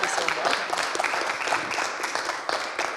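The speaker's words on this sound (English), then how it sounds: "One more round of applause." An audience at a startup demo event claps continuously for a few seconds, a dense, moderately loud patter of many hands with no voices standing out.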